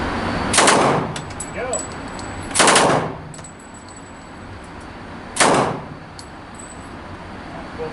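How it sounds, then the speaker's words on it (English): Machine gun fired on full auto in three short, sharp bursts at an outdoor shooting range, loud and close with pauses between, and someone speaking briefly. "Now on full auto. So, line it up, bottom bullseye, short burst, on and off, real quick."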